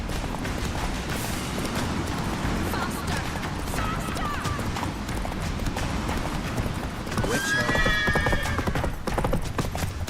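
Roach, a horse in The Witcher 3, gallops with fast, steady hoofbeats that last through the whole run. A whinny comes near the end, and game voices speak over the hooves.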